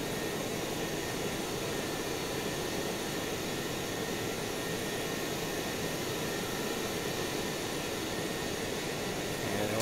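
QualityWings RJ100 regional jet, based on the British Aerospace 146, cruising at 29,000 feet in a flight simulator: a steady, loud, unbroken jet engine roar with broadband whine and no talk.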